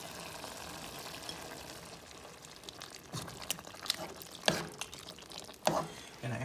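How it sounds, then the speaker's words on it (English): A whole jar of orange chicken sauce is poured into a pan, a thick liquid glugging and splattering with a few sharp clanks and scrapes near the end. "You gonna put the whole jar in here."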